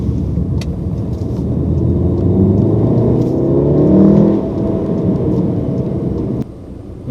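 Volkswagen Golf R MK7 hot hatch engine under way, a loud, steady low drone that swells into a stronger pull around the middle before easing off, with no talking.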